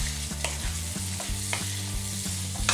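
Beef pickle is stirred in a hot pan with a continuous sizzle and repeated scraping strokes of a spoon, close and fairly loud, with no talking.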